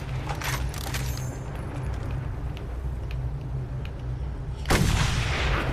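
Gunfire aimed at a sniper in the Mad Max video game, with repeated booming shots over a steady low engine drone and a louder burst near the end.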